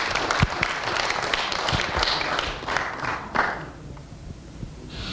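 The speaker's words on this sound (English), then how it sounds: "So a round of applause to these two amazing ladies who booked the speakers and things for us." An audience claps at a talk on cardiovascular health and healthy aging, with bright applause and a few sharp individual claps and thumps, thinning out toward the end.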